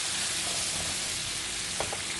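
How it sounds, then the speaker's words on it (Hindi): Chicken pieces frying on high heat in a pan, a dense, continuous close sizzle with a small clink near the end. "इसको अच्छे तरीके से तेज़ आंच पे भूनेंगे।"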